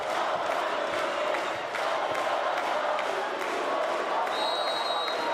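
A large arena crowd at a Fenerbahce Opet vs VakifBank women's volleyball Champions League match in Istanbul, a dense continuous roar of cheering and chanting, with a brief whistle near the end and a commentator talking over it.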